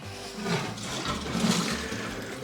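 Rainwater drawn from a greenhouse reservoir holding about 320 litres, running out as a close, steady gush of flowing water that lasts for the whole stretch with no voices.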